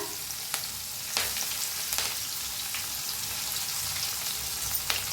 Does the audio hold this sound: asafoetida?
yes